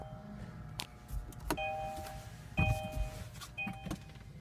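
The panoramic sunroof motor on a 2017 Kia Sorento SX runs in a few short whirring pulses inside the cabin, mixed with clicks and a faint electronic chime.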